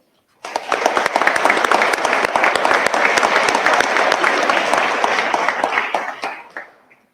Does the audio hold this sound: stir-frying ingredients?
no